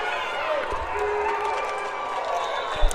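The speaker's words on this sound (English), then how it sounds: "As you can hear the crowd in the background" Distant crowd noise from a nearby flag football game, a steady broad murmur of spectators with faint cheering, heard far off under ongoing background activity.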